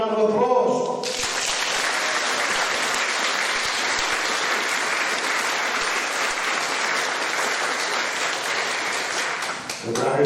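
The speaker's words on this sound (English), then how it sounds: "Let's give them a round of applause." Sustained applause from a large crowd honouring Spitfire and Hurricane pilots fills the clip, steady and loud after a brief opening, then tapering off at the end.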